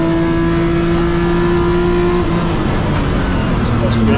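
BMW M Performance Parts Race Series Class D race cars roar along the track, their loud, sustained engine notes shifting pitch as they accelerate and pass, with commentary talk running over them.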